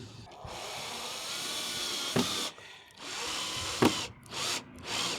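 A power drill drives screws while a rotten tub is being rebuilt, two or three whirring bursts broken by short pauses with sharp clicks, close and fairly loud.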